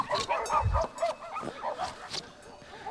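Shepherd dog barking and yipping in short, close bursts, with whimpering, excited vocal sounds in a quick irregular rhythm that fades slightly toward the end.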